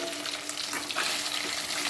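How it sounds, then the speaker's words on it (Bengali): Hilsa fish frying in oil, a dense, continuous bright sizzle and crackle, close and fairly loud with no voices. "ইলিশ মাছগুলো ভাজা হয়ে গেলে তুলে নেবো।"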